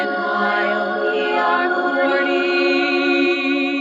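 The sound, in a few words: podcast sound bump played from a mixer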